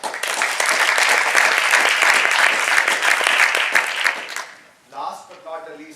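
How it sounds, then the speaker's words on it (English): Audience applause at an entrepreneurship Q&A event, a dense steady clapping that fills about four seconds before fading out, followed by a person starting to speak. "So one round of applause for them"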